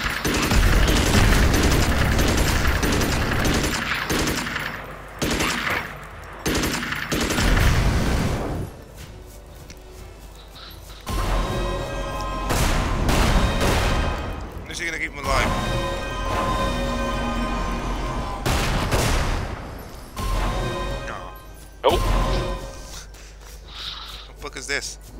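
Spells of fire and healing being cast in the video game Magicka, loud crashing and booming bursts that come in long stretches with short gaps, while players talk throughout.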